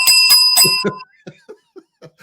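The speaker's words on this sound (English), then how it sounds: "Give me a bell." A bell sound effect rings out in three quick bright strikes at the start, followed by a few scattered soft chuckles.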